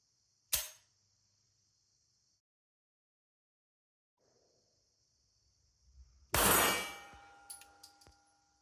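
A single sharp shot from a Mannlicher 1905 pistol cracks at the range, followed by quiet and then a second burst of metallic clatter and rattling, with no voices.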